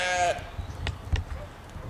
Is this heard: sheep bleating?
yes